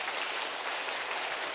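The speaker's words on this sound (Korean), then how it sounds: "나오실 때 뜨겁게 박수해 주시기를 바랍니다" Church congregation at a Sunday worship service clapping as three members come forward; a fairly quiet, continuous wash of applause, distant and even throughout with no voices.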